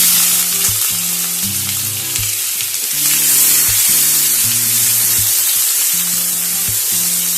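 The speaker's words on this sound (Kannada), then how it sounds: "ಇದೇ ಎಣ್ಣೆಯಲ್ಲಿ 2 ಮೀಡಿಯಂ ಸೈಜಿನ ಈರುಳ್ಳಿಯನ್ನು ಹಾಕೊಳ್ತೇನೆ." Two medium-sized onions fry in hot oil for a brinjal cashew masala curry, a loud, continuous close-up sizzle with a steady low stove hum underneath and no talking.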